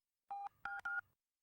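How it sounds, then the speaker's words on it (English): A telephone keypad dials three clear DTMF beeps, one longer tone followed by two short ones in quick succession, crisp and alone on a silent background. "I picked up my phone and dialed Father Grant"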